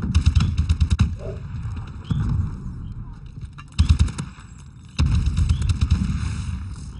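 Bursts of rapid video game gunfire crackle in several volleys with short gaps between them, mixed with muffled voices and background noise.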